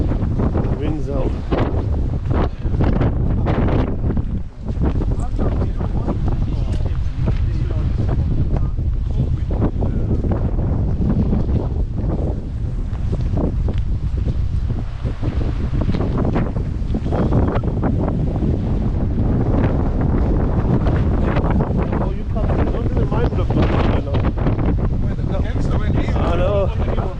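Strong wind on a hillside hike to Dovestone Rocks buffets the microphone, a constant loud roaring rumble with gusty swells, while voices talk faintly underneath.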